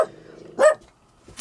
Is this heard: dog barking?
yes